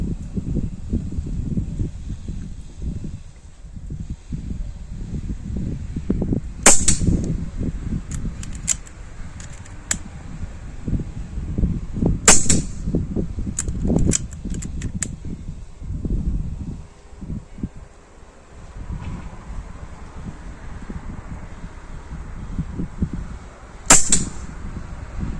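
Snowpeak PP750L air rifle fired at a 25 m range: a few sharp, isolated cracks spaced several seconds apart, with fainter ticks between them, over a steady low rumble and no talk.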